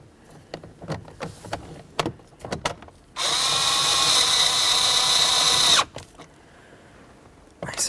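Power drill tightening a mounting bolt while replacing the cruise control switch on a 2007-2012 Dodge Caliber: a loud, steady whine runs for about three seconds, with clicks and handling noises and a voice heard before and after.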